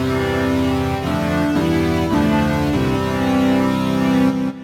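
XILS-Lab PolyKB II software synthesizer patch of detuned saw and square waves, one oscillator an octave down, playing a sustained chord that steps through several changes, loud and alone, cut off sharply at the end.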